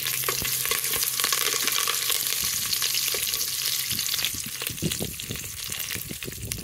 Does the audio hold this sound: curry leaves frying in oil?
yes